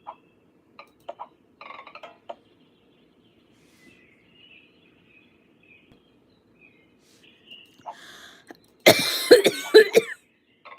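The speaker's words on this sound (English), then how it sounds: "You hear my coughing." A person coughs in a short loud burst near the end, after scattered faint throat noises and small clicks in an otherwise quiet room.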